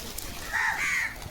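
A crow caws once in a short, hoarse call at moderate distance, rising out of faint outdoor background noise.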